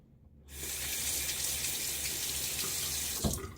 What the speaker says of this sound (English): Easily rinses away from the razor.